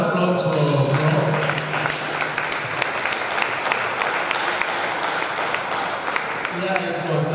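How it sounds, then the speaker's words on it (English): An audience at a workshop gives a sustained round of applause, dense clapping throughout, with voices talking over it. "Another round of applause for Prof."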